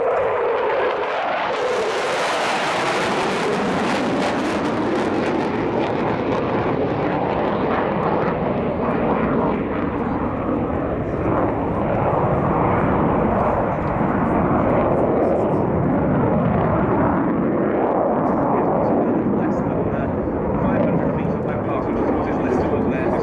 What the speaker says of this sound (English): here we see something of the low-level capability of the fitter in a show of force, 480 knots, 500 feet